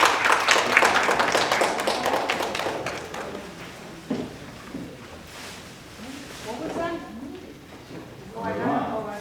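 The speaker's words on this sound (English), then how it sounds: "let's give her a warm round of applause to Maria Aponte" An audience at a literary festival applauds for a poet, with brisk clapping at the start that thins out and fades, followed by a person beginning to speak.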